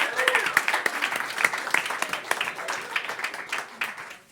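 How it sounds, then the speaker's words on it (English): Small audience clapping at a talk, a lively burst of close, distinct hand claps with some murmuring voices, fairly loud at first and tapering off near the end. "Give him a clap."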